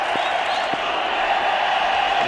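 A large cricket crowd cheers after a boundary: a steady, loud roar of voices and whoops that holds throughout the moment.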